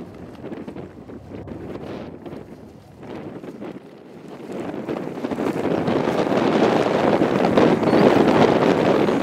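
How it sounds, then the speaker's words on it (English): Gusty wind buffeting and roaring across the microphone on a cold, wet day, growing louder and steadier toward the end. "It's cold, wet and windy."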